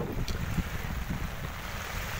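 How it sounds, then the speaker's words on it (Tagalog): Strong wind buffets the microphone on Manila Bay with a low rumbling roar, continuous and close, with a rushing wash of rain. "dahil po umuulan, may kalakasan yung hangin"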